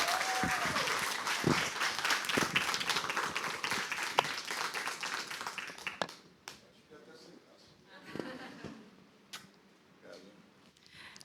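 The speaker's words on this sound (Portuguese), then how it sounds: "uma salva de palmas" Audience at a Brazilian music festival talk event applauds loudly for about six seconds, the clapping dense and steady before fading into scattered claps and room murmur.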